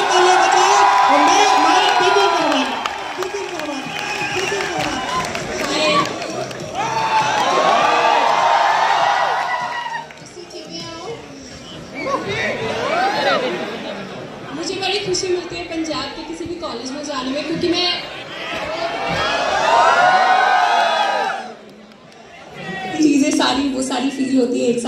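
A large college audience at Lovely Professional University in Punjab cheers, whoops and shouts in loud, sustained waves that briefly dip and then surge again, with excited voices overlapping throughout.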